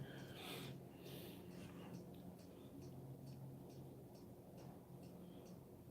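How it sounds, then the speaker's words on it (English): Cuckoo clock ticks faintly in an even, regular rhythm, soft clicks repeating roughly twice a second under low room noise and breathing. "you can hear the cuckoo clock"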